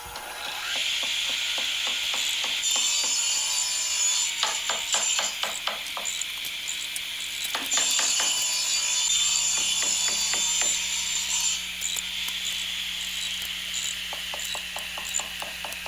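Ratchet removing hardware from a Squier guitar as it is stripped down to body and neck, with rapid rhythmic clicking in repeated bursts, close and clear, with no talk.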